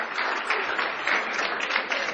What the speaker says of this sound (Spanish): aplaudimos para recibir la palabra